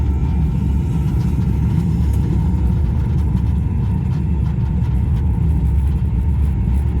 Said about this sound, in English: We have main engine start. 5, 4, 3, 2, 1. Lift off.